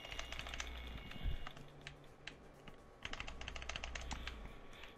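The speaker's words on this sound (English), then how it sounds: "you making that typing sound" Rapid clattering keystrokes rattle on a keyboard during a session of Earth Defense Force: World Brothers, uneven bursts of clicks with brief pauses, close and fairly quiet, alone without talk.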